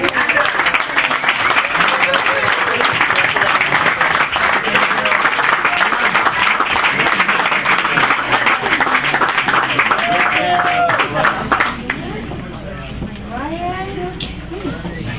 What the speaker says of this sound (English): please put your hands together, ladies and gentlemen, for Miss Ayana Del Valle.